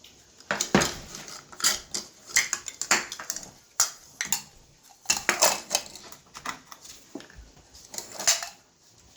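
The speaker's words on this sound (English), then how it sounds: "I just want to mix the flour together." A utensil stirs flour and milk in a pot for homemade chicken pot pie, giving bursts of scraping and clinking metal against the pot in an uneven rhythm, with short pauses between rounds of stirring.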